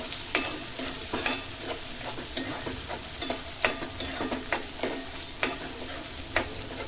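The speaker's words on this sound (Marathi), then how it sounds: "एक अख्खा कांदा बारीक चिरून घेतलेला आहे छान तो आपल्याला गोल्डन ब्राऊन होऊन द्यायचा" Finely chopped onion with green chili sizzles in a pan on its way to golden brown, while a spoon stirs and taps at a regular pace, about twice a second, over the steady frying hiss.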